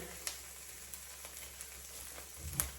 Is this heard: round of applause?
no